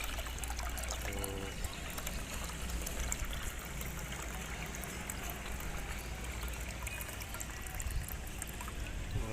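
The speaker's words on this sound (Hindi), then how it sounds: "और भी डालते हैं इसमें पानी" Water pours and trickles steadily into a container set out for birds in hot weather, a continuous close splashing rush with no talk over it.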